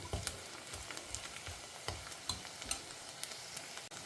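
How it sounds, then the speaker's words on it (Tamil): Garlic fries in oil, a soft, even crackle with light ticks of stirring throughout, close but quiet and brief, with no voices. "பூண்டு வந்து பொரிய ஆரம்பிச்சிருக்கு"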